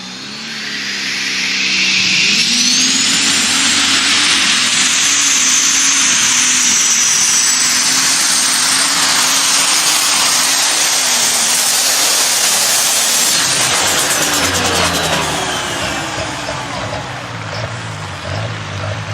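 A pulling tractor's engine runs steadily and loudly for the whole stretch, a dense roar with a low droning tone, easing slightly toward the end.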